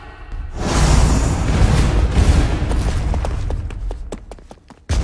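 A TNT block goes off in Minecraft as one big, close, rumbling blast that swells and lingers for several seconds, then trails into scattered crackles and debris, with no talking.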